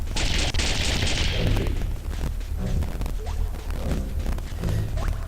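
In the video game Jet Force Gemini, gunfire and crashing impacts blast in a loud, dense cluster at the start, then fade into scattered thuds and booms over continuous game noise.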